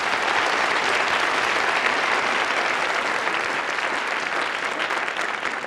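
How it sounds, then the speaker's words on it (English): Steady, dense applause from a studio audience at a wine-tasting talk show, loud and unbroken for several seconds with no talking over it. "applause more, will you please?"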